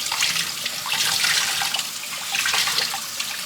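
Running tap water splashes steadily as tie-dyed shorts are rinsed to wash out excess blue dye, a loud close hiss of water over fabric and gloved hands that swells and dips slightly without any speech.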